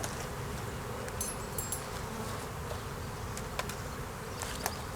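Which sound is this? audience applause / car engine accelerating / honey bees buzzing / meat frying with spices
honey bees buzzing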